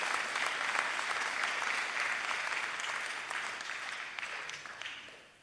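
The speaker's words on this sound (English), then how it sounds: "you only gave him just a weak round of applause" Weak round of applause from an audience at a Class of 2024 school announcement, steady clapping throughout that gradually thins and fades out at the end.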